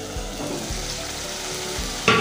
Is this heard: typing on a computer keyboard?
no